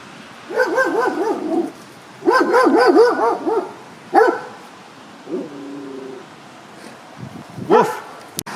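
A dog barks in an English town setting, several bursts of close, moderately loud barking and yips in clusters, with a short whimper between them.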